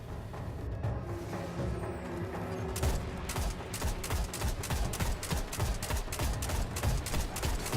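Rapid bursts of gunfire in the video game Destiny, starting moderate and then settling into a steady, loud rhythm of repeated shots from about three seconds on, over a dense game soundscape.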